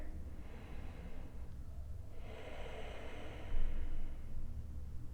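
Slow breaths drawn and released during a hip and side-body yoga stretch, a soft airy inhale followed by a stronger, louder exhale, close and alone against quiet room noise.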